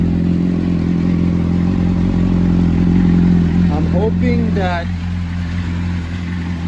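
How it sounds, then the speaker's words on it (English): A motorcycle engine idles steadily while warming up, with a low continuous hum that runs through the whole stretch; a person's voice cuts in briefly over the engine near the end. "So far, as you can see, it's warming up a little bit. The bike does sound good."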